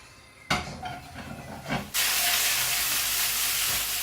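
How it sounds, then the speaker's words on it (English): Mushrooms tipped into a pan coated with a little oil for a vegan Fiji fusion curry: a few dull clatters as they drop in, then a sudden loud, steady hiss of sizzling that fills the rest of the clip. "And in goes the mushrooms."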